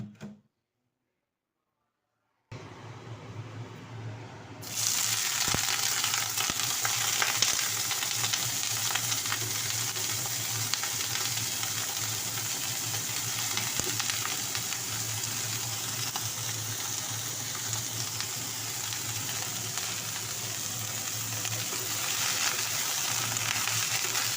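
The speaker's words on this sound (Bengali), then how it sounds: "এখন আমি প্রথমে ব্রোকলিটা একটু হালকা তেল দিয়ে ভেজে নেব।" Broccoli fries in a little oil for a Bengali potato-broccoli curry, a steady loud sizzle with occasional stirring scrapes, starting after a brief silence and holding evenly throughout with no talk.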